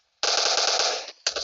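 Automatic gunfire from PUBG Mobile on the Sanhok map: a loud, close, rapid machine-gun burst of about a second, a brief pause, then a second burst starting.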